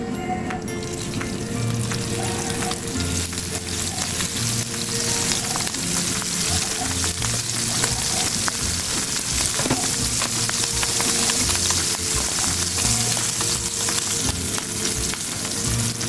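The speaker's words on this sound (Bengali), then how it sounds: "তেলটা গরম হয়ে গিয়েছে, এখন আমি মাছগুলোকে দিয়ে দিব।" Gulsha fish fry in hot oil in a pan, giving a loud, close, continuous sizzle with bubbling crackle that holds steady throughout, with no voices over it.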